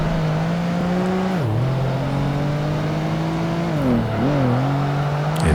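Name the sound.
race car driving in video game Project Gotham Racing 2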